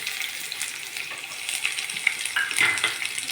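Onion with a few curry leaves sautéing in a pan for a simple okra stir-fry, a steady close crackling sizzle with brighter pops and spatters scattered throughout, no talking.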